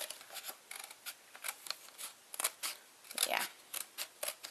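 Scissors snip through a paper plate in quick, close, crisp cuts, a run of sharp clipping bursts spaced irregularly, with a short spoken remark partway through.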